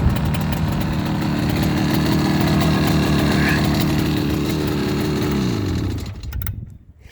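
A 1967 Yamaha YCS1 Bonanza 180 two-cylinder motorcycle engine idles steadily and loudly with a regular low throb, then cuts off near the end, leaving quiet.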